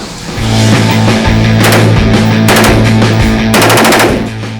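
A gun fired on full automatic unleashes loud, close bursts of rapid shots in several strings over a steady low rumble, with no talking.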